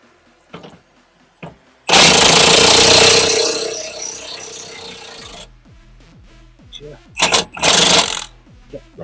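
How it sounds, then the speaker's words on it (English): Impact gun hammering on a 15mm axle bush bolt of a Ford Fiesta, one loud sustained burst of about three and a half seconds, then clanks of tools and shorter rattling bursts close by. "get the impact gun at the ready"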